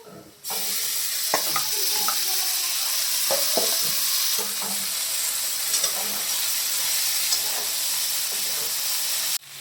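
Washed, drained fenugreek leaves hit a hot pan with turmeric and chili powder, giving a sudden loud hissing sizzle that holds steady while a spoon stirs with intermittent scraping knocks.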